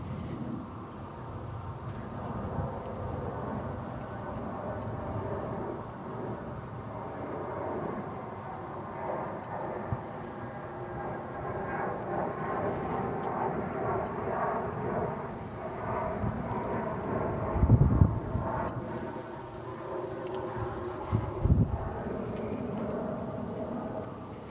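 An airliner takes off from a runway at DFW Airport, its broad rumbling roar building steadily in the distance and swelling near the end.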